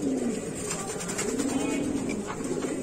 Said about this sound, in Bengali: আমরা আরেক জোড়া কবুতর দেখাচ্ছি